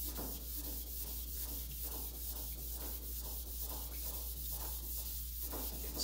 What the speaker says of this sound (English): So I'm starting to get the optimal portion of the life of the sandpaper now, where it's already smooth some.